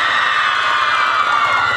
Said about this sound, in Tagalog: Ito ang tinagandang pinagapalakpak.